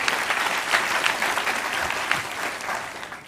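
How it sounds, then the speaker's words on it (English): Steady audience applause fills a talk-show-style session on company culture, a dense, even wash of many hands clapping close by for about three seconds with no voices over it. "Round of applause."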